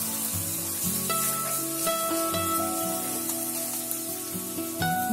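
Finely chopped onion with ginger garlic paste fries in a pan for a mixed vegetable korma, giving a steady close sizzle with scraping stir strokes, while tonal music plays throughout.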